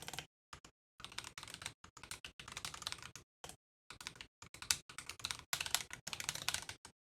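Computer keyboard typing while coding, bursts of quick close key clicks separated by short silent pauses, with no talking.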